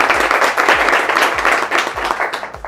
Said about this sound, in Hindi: क्लैपिंग हो जाए, ताली हो जाए